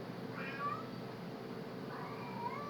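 A pet cat indoors gives two drawn-out, wavering meows, the second longer than the first. Both are fairly quiet and there is no talk over them.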